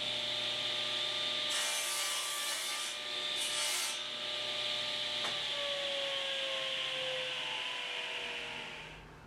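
A stack of 1x6 wood boards ganged together is sawn to length in a woodshop. Two short rasping cutting bursts sound close over a steady machine hum, then trail off.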